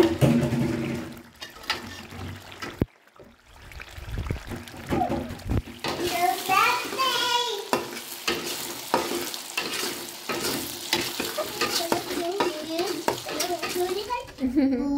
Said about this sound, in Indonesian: lanjut kita goreng cabenya guys. Ini kita masak cabai.